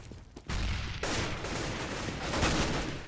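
Rapid gunfire in Counter-Strike during a competitive amateur playoff match, with dense overlapping bursts of automatic and single shots cracking loudly and continuously for about three seconds, without pause.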